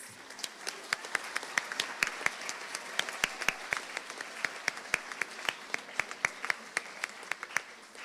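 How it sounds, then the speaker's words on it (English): Applause in a school awards ceremony hall, a modest audience clapping with sharp, distinct individual claps standing out over a steady bed of lighter hand claps, sustained evenly throughout without speech. "Big round of applause."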